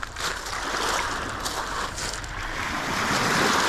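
Waves wash against the shore of Lake Baikal in a steady, continuous surf. Wind buffets the microphone throughout, and no one speaks.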